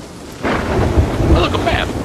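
A thunderstorm with rain rolls over the sea in Sea of Thieves. A sudden loud thunder crash breaks in, with deep rumbling pulses, over a steady hiss of heavy rain.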